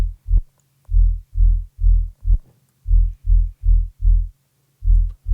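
A distorted dual-oscillator wub bass synth pulses in heavy, rhythmic low throbs, loud and alone, with brief gaps between bursts.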